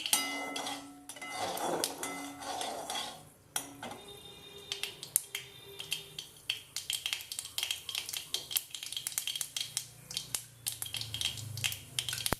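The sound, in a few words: chopped onions added to a pan and stirred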